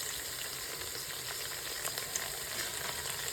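Onions frying in oil with turmeric, a steady close sizzle with soft crackling pops throughout and no voices.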